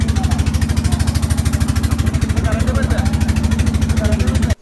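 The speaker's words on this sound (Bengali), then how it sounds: "ট্রলার ছেড়ে দিল দেখি আমরা সামনে এগিয়ে যাচ্ছি" A trawler's engine thuds steadily on departure toward an island, a loud, close, rhythmic diesel chugging that runs without pause throughout.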